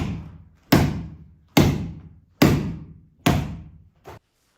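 Practice strikes with a telescopic baton land on a target as four heavy, evenly spaced thuds about a second apart, each with a short decaying ring, followed by a lighter fifth hit, close and alone.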